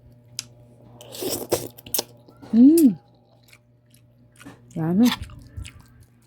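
Crunchy, wet chewing of cooked pancit canton noodles at close range, several bursts of biting and mastication between short spoken words and a hum in the background.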